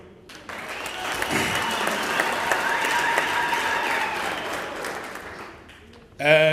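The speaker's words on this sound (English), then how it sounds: "I'd like to call on all of you, comrades, to give a round of applause first to the branch of Joslovo" Audience of comrades at an ANC and SACP gathering giving a round of applause for the Joslovo branch, a dense sustained clapping crowd over six seconds, cut off by a loud voice at the end.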